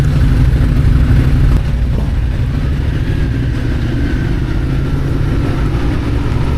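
A motorcycle engine idles steadily and close by before setting off from a ferry at Madeira Park, British Columbia, a low continuous rumble with no talking.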